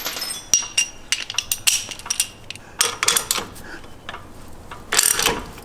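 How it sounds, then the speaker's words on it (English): An 18mm wrench and socket working a lower shock bolt on a Jeep JL Wrangler during a Rancho RS5000X shock install: sharp metallic clinks and ratcheting clicks come in bursts. "we can now take an 18mm wrench and an 18mm socket."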